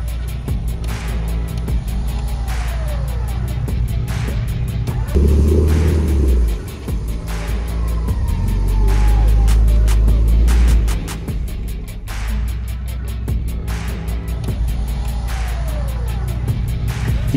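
Land Cruiser 4x4 engine grinding over a camber and incline obstacle off-road, a continuous loud mid-pitched drone with repeated revs and a deep surging rumble in the middle, no talking.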